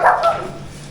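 A single close, sharp dog bark rings out and quickly fades, with no other sounds around it.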